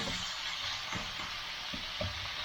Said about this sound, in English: Let that simmer for a while.